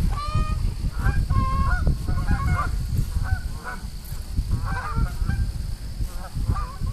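Geese on a beach at Stony Creek honk repeatedly and irregularly from fairly close range, over a low rumble of wind or surf.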